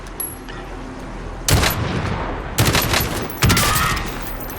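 Automatic weapon fire in Call of Duty Warzone: three loud bursts of rapid shots separated by short pauses, standing out sharply over a quieter game background.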